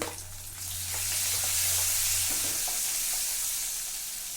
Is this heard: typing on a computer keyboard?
no